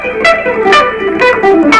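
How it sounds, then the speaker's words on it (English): A quick run on electric guitar plays a pentatonic scale backwards in five-note groups, with five or six short, bright picked notes in under two seconds, close and alone. "we're going to play it going backwards 5 notes at a time, and quickly it will sound like this"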